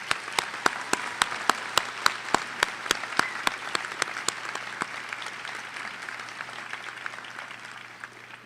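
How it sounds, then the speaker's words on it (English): Audience applause at the York College convocation, dense steady clapping from a crowd with a few sharp individual claps standing out early, gradually thinning and fading toward the end. "Let's give these new colleagues a round of applause"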